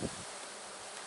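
Honey bees from a three pound package being installed into a Langstroth hive make a steady, dense buzzing drone close by. The sound holds evenly throughout with no voices.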